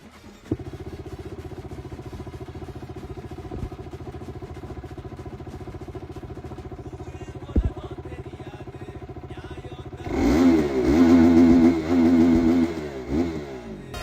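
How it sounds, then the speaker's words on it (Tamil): A KTM RC 390 motorcycle engine idles steadily with a mechanical clatter for about ten seconds, then revs up loudly in a few strong bursts before settling back down, close up with no talk. "வீடியோக்குள்ளே போகிறதுக்கு முன்னாடி வண்டியோட சவுண்டை கேட்டுவாங்க"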